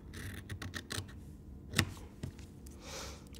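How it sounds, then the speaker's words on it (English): Scissors cutting fabric for mini oven mitts, a quiet series of close snips and crisp clicks, with one sharper click partway through. "And then you just cut down the middle."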